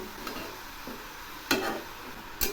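Mixed leafy greens (shaak) are stirred in a pan over low heat, with a quiet background sizzle and a few sharp scraping clinks of the utensil against the pan.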